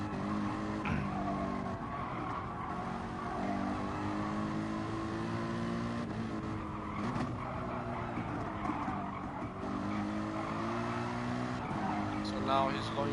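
A race car engine roars at full throttle down the start-finish straight at Autopolis in Gran Turismo Sport, a steady, loud drone with rising harmonics and brief tyre squeals, heard under continuous tournament commentary.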